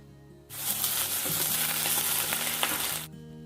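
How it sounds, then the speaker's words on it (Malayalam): Ginger garlic paste sautés in a hot pan for chicken kondattam, a loud, close, continuous sizzle that bursts in suddenly, holds steady for about two and a half seconds with faint stirring, then cuts off. "ഇഞ്ചി വെളുത്തുള്ളി പേസ്റ്റും ചേർത്തിട്ട് നന്നായിട്ടൊന്ന് വഴറ്റി"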